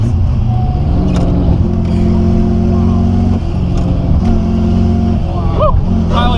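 A Rolls Royce with a welded differential revs hard, its steady engine drone rising and falling while the tires spin, loud and close throughout, with voices talking over it.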